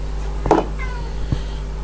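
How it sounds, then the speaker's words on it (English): A single short cat meow close by, followed by a faint thump, over a quiet background hum. "So there's my cat meowing."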